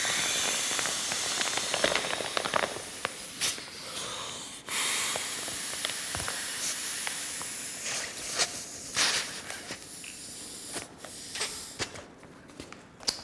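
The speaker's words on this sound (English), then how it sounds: "The inflatable camera cube has been inflated" A Wandrd inflatable camera cube fills with air after its valve is unscrewed, a soft continuous hiss of air punctuated by rustling fabric and handling noises, fairly close and quiet.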